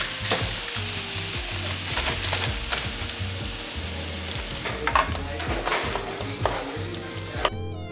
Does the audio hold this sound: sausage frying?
yes